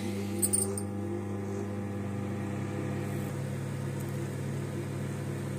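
A microwave oven runs with a steady low hum while roasting cumin seeds, with a brief faint clatter near the start and no one talking.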